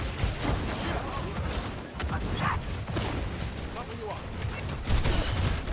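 Rapid bursts of gunfire and scattered impacts from the video game Overwatch, during a school esports match, crackle at a steady level with voices talking over them.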